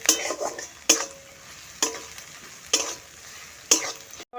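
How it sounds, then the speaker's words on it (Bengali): Crushed garlic fries in a pan with onion, giving a soft steady sizzle broken by about five regular, sharp scraping strokes of a spoon stirring against the pan. "ভেজে নিচ্ছি।"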